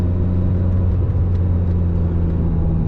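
Ferrari F355 Berlinetta V8 engine droning steadily while driving, a loud, close, even rumble with a constant low hum and no change in pace.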